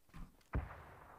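A grenade goes off in the video game PUBG as a single sharp, low boom that fades quickly. The blast is fairly faint, and a soft rustle comes just before it.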